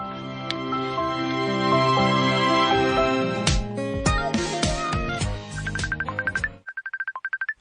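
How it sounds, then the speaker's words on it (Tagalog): A cellphone ringing with a melodic ringtone that plays loud and close, a tonal tune followed by a repeated short beeping pattern at the end, with no talk. "Akong cellphone."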